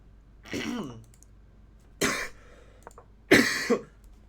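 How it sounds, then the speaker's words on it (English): Three separate harsh coughs, close and fairly loud, spaced about a second apart with quiet between them. "Oh, sorry, I'm coughing a lot."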